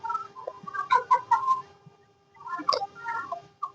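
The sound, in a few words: rooster/chickens clucking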